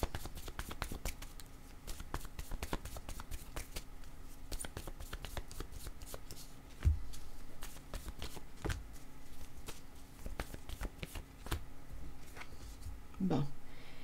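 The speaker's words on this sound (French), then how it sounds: "Allons-y avec quelques cartes supplémentaires." Tarot cards are shuffled by hand in a steady run of soft riffling taps and flutters, close and fairly quiet, with a couple of louder knocks and no talking.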